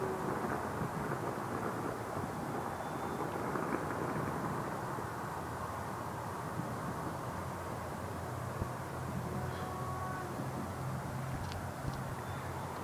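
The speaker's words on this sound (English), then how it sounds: "Everybody's starting to pop off their fireworks now." New Year's fireworks go off far across town as faint, low rumbling booms over a constant hiss of distant background noise. There are no voices nearby.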